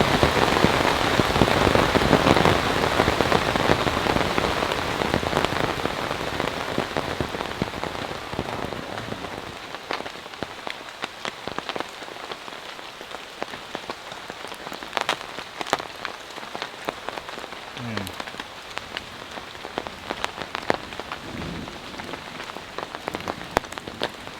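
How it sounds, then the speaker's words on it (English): Heavy rain pounds steadily on a tent at a campsite during a nighttime thunderstorm, a dense continuous roar that is loudest at first and eases slightly, with scattered sharper drop impacts and no talking. "It's still raining so hard that we really can't talk."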